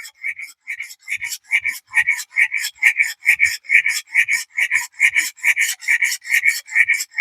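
Camp knife blade drawn over a sharpener in a steady, even rhythm of rasping strokes, about three per second, close and loud with nothing else heard.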